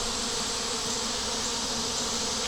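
Honey bees buzz outside the hive on a hot day, a dense, steady hum of many insects close by, continuous and even throughout with no voices.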